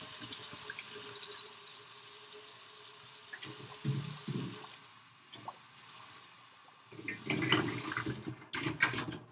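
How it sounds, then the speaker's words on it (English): Water runs and splashes in a sink with clattering bursts, growing louder and busier toward the end as kombucha bottles are rinsed under the stream. "So I'm just going to rinse them"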